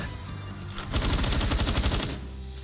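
Rapid gunfire in the video game Palworld, a dense burst of automatic shots lasting about a second over a constant background game soundscape.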